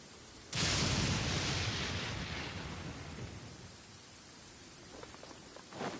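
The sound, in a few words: thunderstorm with rain in the video game Genshin Impact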